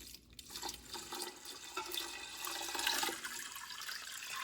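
Water pours and splashes into a cooking pot for rice and moong dal, a continuous close trickling and gurgling stream of moderate loudness with no voices.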